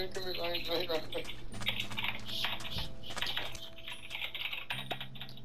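Rapid computer keyboard typing clatters close and loud over music and game sounds, keystrokes coming in dense, uneven bursts while a voice talks in between.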